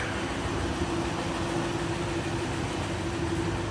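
A 1953 Buick Woody engine idles steadily at a low, even hum with a faint constant drone, heard moderately close with no other sounds.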